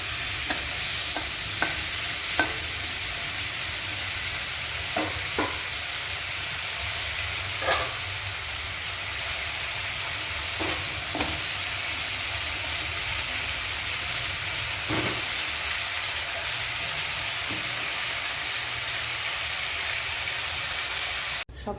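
Vegetables stir-frying in a pan for a prawn dish, a steady close sizzle with repeated clinks and scrapes of a spatula throughout, no talking.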